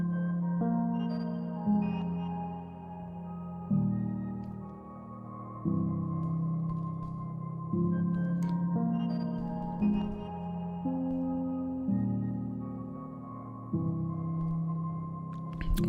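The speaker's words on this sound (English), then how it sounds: "And a nice piano sound." Piano playing slow chords, a new one struck about every two seconds, each ringing out and fading before the next. No voices.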